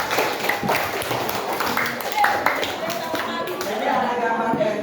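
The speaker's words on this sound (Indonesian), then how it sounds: "Kasih tepuk tangan buat Kasya." A classroom of students clapping for a classmate, steady dense clapping that carries on through the whole stretch, with voices talking in the room.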